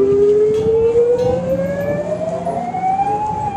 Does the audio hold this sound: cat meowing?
no